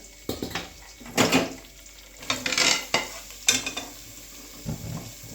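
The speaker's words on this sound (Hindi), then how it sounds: "अब हम इसमें डालेंगे प्याज" Sliced onions tipped into okra frying in a pan for bhindi pyaz sabzi, giving bursts of sizzling and stirring scrapes in uneven strokes, close and moderately loud.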